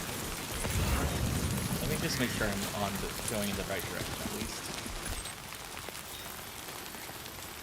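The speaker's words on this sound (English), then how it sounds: "Nice to get some encouragement before we head out into the rain." Steady rain falls across an outdoor scene in the video game Death Stranding 2, a continuous hiss of drops on surfaces that runs under a voice talking throughout.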